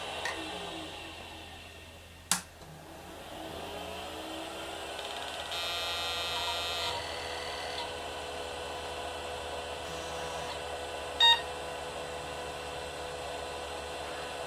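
An Amstrad Mega PC 386SX reboots: a sharp click, then a low fan hum and whir spin up and hold steady, and one short electronic beep sounds later.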